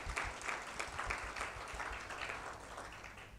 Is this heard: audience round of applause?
yes